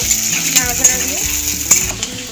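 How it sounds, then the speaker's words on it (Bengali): Chopped onion lightly frying in hot oil with nigella seeds, a steady close sizzle with occasional soft stirring clicks and scrapes, no talking. "হালকা করে পেঁয়াজ ভাজা হয়ে গেছে"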